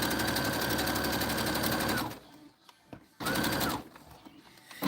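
A sewing machine runs a straight stitch on a keychain jacket holder, a loud, steady whirring burst for two seconds, a short pause, then a second brief run of stitching close by.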